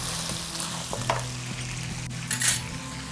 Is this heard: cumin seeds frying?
yes